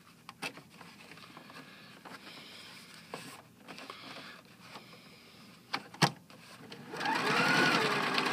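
A Pfaff Quilt Ambition 2.0 sewing machine stitching a seam, with scattered close clicks and handling taps before the motor whirs up into a steady, loud run of needle strokes near the end.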